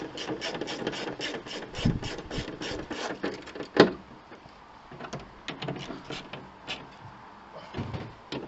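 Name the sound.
ratchet tightening wiper motor bolts to torque 30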